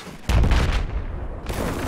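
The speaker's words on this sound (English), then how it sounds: "spamming that 25mm cannon" Video game naval battle with a 25mm cannon firing: a loud, heavy burst of booming shots from a nearby weapon, then a short lull and another blast of rapid fire.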